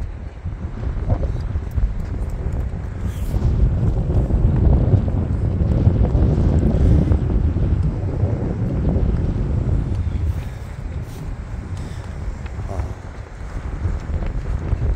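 Strong wind gusting across a golf course buffets the microphone with a loud, continuous low roar that swells and eases over the whole stretch, while people talk over it.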